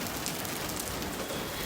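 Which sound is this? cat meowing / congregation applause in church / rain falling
rain falling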